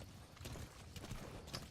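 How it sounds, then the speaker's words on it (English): Horse hooves clip-clopping as it runs up in the video game Metal Gear Solid V, a steady close rhythm of thuds over continuous in-game background noise. "call the horse, and the horse will hopefully"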